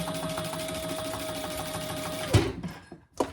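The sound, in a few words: sewing machine stitching handbag connector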